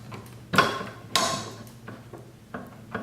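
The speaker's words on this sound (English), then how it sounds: "it's supposed to gently go in like that, to that position there, and this is how it locks in there." Part of a Wanzl 1854/67 rifle sliding into the bolt and locking, a few sharp metallic clicks and taps spaced irregularly, close and fairly quiet with no talk.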